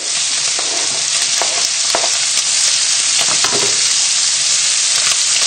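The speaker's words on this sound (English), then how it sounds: "we can get these straight into the pan, frying away" Steady, loud sizzling of chicken livers frying in a hot pan, with occasional sharper crackles and the scrape of stirring throughout.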